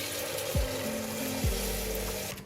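Meat broth is poured from a boiled-meat stock into a pot with tomato paste for Georgian kharcho soup, making a steady, fairly quiet liquid rush with no talking.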